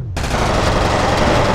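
Rapid automatic SMG fire from the video game F.E.A.R., a loud continuous burst that kicks in after a brief silent start and rattles on without pause to the end.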